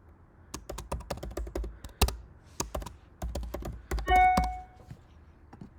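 Typing on a computer keyboard while entering a primary guardian's information into an online school application, with irregular bursts of close, crisp key taps, one louder thunk, and a brief electronic tone partway through.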